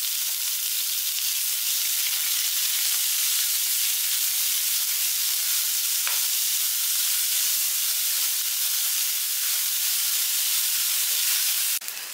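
Chopped big onion frying in a pan makes a loud, steady sizzle and hiss that holds constant throughout, close up, with no talking.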